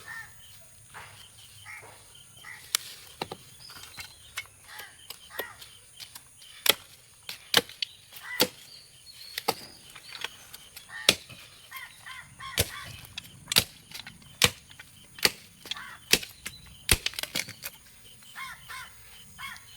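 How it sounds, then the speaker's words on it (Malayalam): A blade chops through cassava stems in a farm plot after rain, giving sharp, separate thwacks at an uneven pace, some loud and close, over a quiet outdoor background with faint insects. "ഇതിൽ വെച്ച് മുറിക്കണം നമ്മൾ കറക്റ്റായിട്ട്."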